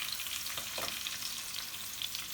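Steady, close sizzling of food frying in oil, a dense crackling hiss throughout with a faint stirring scrape partway.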